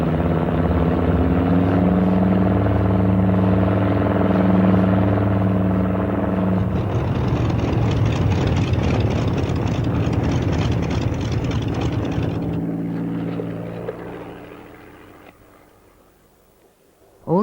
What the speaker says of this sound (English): Every day, British reconnaissance aircraft flew above occupied Europe.